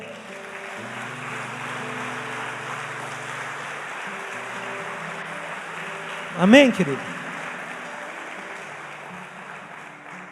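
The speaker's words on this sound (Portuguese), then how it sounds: "Então aplauda o Senhor." A church congregation claps during a sermon, producing a steady broad wash of applause throughout; a voice briefly speaks over it partway through.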